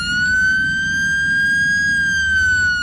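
An emergency vehicle siren wails in the firefighting video game Into The Flames, a loud, steady sustained tone that holds throughout over a low engine rumble.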